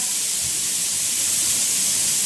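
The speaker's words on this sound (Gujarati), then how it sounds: "અને એક બાજુ થાય છે કુકરની સીટી" Pressure cooker whistling in a home kitchen, a loud, steady high hiss of venting steam that holds without a break, with no voices.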